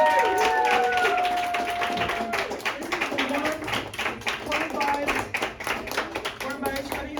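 Audience applause greets a first-time stand-up comedian walking onstage at a Seattle comedy night, steady dense clapping that thins out toward the end, with voices talking and a few whoops mixed in.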